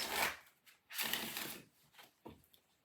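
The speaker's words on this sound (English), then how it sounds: "Let me get you a couple more shuffles." Tarot cards being shuffled by hand, close up, in three quick papery bursts of riffling and sliding with short pauses between, with no voices.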